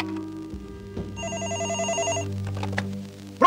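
A telephone rings with a bright, steady electronic trill, one clear burst of ringing standing alone, with no talk over it.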